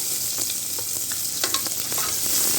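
Green chilies hitting cumin frying in hot oil, a loud, dense close sizzle with a few sharp spatters and stirring clicks throughout.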